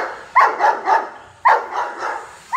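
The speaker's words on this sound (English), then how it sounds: "Got some doggies here." Guard dogs bark in Manila's Ermita district near a construction site, giving two clusters of three sharp, loud barks with a pause between them.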